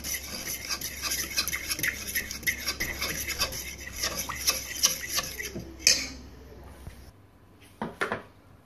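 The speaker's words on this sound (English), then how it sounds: "Don't stop stirring." Jerk marinade being stirred in a bowl, a rapid scraping and rubbing rhythm of utensil against the container, fairly close and continuous, ending with a couple of sharper knocks and a brief pause.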